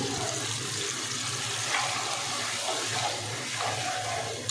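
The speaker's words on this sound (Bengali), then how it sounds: "জলের পরিবর্তে আমি দিয়ে দেবো একটু দুধ" Milk is poured into a pan of pointed gourd curry, a steady liquid pour and sizzle held close and even across the whole moment, with no talking.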